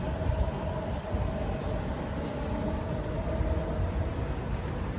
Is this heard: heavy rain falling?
no